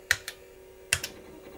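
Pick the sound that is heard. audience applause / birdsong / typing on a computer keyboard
typing on a computer keyboard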